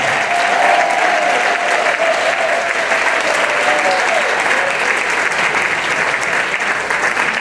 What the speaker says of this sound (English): Come on, let's give him a big round of applause.